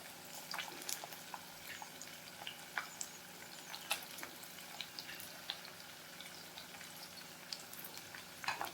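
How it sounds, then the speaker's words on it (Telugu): Capsicum and tomato pieces frying in a pan for a kadai paneer, a soft, steady crackle with scattered pops and the occasional stir, fairly quiet throughout. "ఇలా టమాటో ముక్కలను కూడా యాడ్ చేసి చక్కగా కలుపుకొని ఫ్రై చేసుకుందాం."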